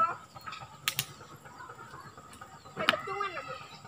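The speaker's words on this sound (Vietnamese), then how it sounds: "đây là con gà bạch tạng nó còn bé luôn mọi người ạ." A small albino chick clucks in a few brief, high calls, with sharp clicks and knocks around it and voices talking nearby.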